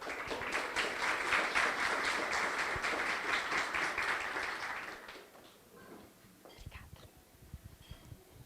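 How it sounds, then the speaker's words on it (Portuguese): An audience at a medical clinic management talk event applauds a presenter, with clapping filling the first five seconds at moderate distance, then fading out into a few scattered claps and quiet room noise. "Uma salva de palmas para a Josiane."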